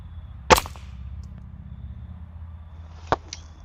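Two sharp, single shots from a Ruger Air Hawk Elite II air rifle fired off a rest in a backyard, a few seconds apart, crisp and near in otherwise quiet surroundings.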